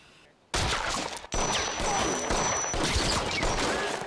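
Gunfire in a scene from the 2019 film Terminator: Dark Fate: after a quiet start, a loud, dense burst of shots and crashing noise fills the remaining seconds, broken by one brief dip.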